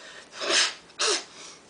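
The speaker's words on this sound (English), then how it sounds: "I'm going through some allergy issues right now, so forgive me, guys, if I just kind of like sneeze or something like that" A man with allergies lets out two short, breathy sneezes in quick succession, close and fairly soft, with no speech in between.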